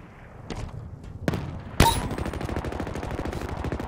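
Minigun fire in a video game: a sharp blast, then a sustained rapid stream of shots that stays loud and continuous to the end, with a few earlier thumps before it.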